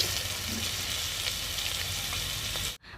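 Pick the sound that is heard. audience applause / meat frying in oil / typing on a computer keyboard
meat frying in oil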